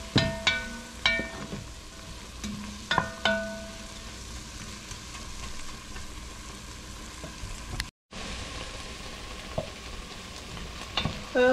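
Onions sizzling steadily in a frying pan for chili, with a utensil scraping and stirring in short bursts, the frying hiss continuous and close with a brief break near the end.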